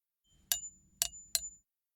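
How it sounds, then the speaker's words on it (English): Metal spoon tapped gently against a cup, giving three bright clinks with a ringing tone, the last two close together, quiet and close with no talk. "I can make a clinking sound by tapping a spoon gently against my cup."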